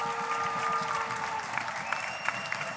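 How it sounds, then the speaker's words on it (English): A crowd at the Hoosier Star 2021 event applauds for Jim Snyder, with dense, sustained clapping and a few scattered cheers, steady and fairly loud across the whole moment. "Let's give him a round of applause."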